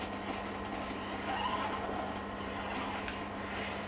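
Horse in the video game Red Dead Redemption whinnying faintly over a steady low game ambience, a brief neigh midway, distant and quiet, with no talk.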